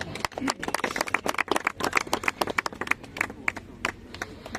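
Applause from a church youth committee gathering in Jalandhar district, a dense run of hand claps in uneven bursts filling the space, fairly close and lively.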